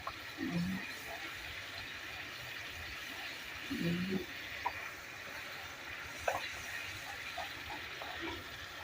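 Water pours into a cooking pot of fish korma masala, a faint hissing wash over steady background noise that swells briefly a few times, while light kitchen clatter sounds between the pours.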